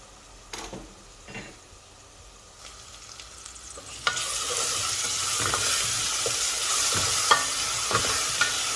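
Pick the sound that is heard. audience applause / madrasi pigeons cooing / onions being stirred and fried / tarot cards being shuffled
onions being stirred and fried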